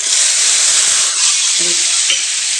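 Lemon rice mixture sautéing and being stirred in a pan, a steady loud sizzle throughout with a few brief scrapes of the spoon near the end.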